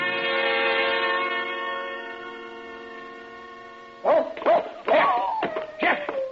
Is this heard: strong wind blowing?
no